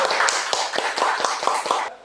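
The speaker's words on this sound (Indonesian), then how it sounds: "Tepuk tangan dulu dong buat Astra Daihatsu ya" Hands clap in a quick, even rhythm for about two seconds, roughly eight sharp claps close by, cheering on Astra Daihatsu at a car test-drive event.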